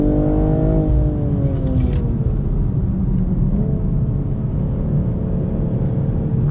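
A BMW M240i xDrive launches hard under launch control, its engine note climbing loudly, dropping at a quick gear change, then pulling again over a heavy constant rumble.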